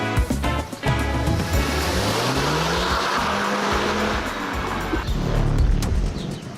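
A car pulls away from a car wash, its engine revving up in a rising tone as the tires squeal. It is close and loud, then settles into a lower rumble as it goes.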